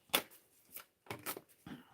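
Tarot cards are shuffled by hand in a few short, crisp riffling bursts with pauses between, close and quiet, with no talk.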